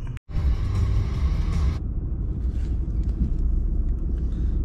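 A car drives through Elberton, Georgia, following behind another vehicle, with a steady, close low engine and road rumble that holds throughout.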